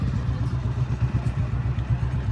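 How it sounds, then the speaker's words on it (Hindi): A motorcycle approaching along a road, its engine putting out a low, pulsing mid-pitched chug at moderate loudness with a faint clatter. "मोटरसाइकिल वाला तो मोटरसाइकिल वाला आ रहा।"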